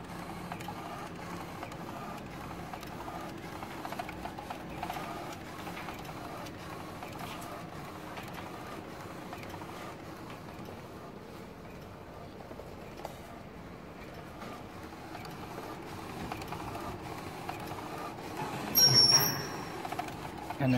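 A direct-to-garment printer prints a t-shirt in color only, a faint continuous mechanical whir with soft carriage movements and a brief louder burst near the end.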